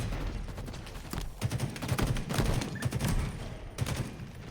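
Rapid bursts of automatic gunfire crackle from a Halo Infinite esports semi-final match, firing in dense overlapping volleys at a moderate distance with no talk over it.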